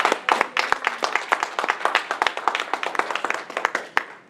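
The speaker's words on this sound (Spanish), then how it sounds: "Denle ese aplauso fuerte al Señor." A church congregation claps loudly and steadily, a dense run of close, sharp handclaps carrying on without a break from start to finish.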